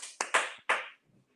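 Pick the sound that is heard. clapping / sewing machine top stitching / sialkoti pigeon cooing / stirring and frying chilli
clapping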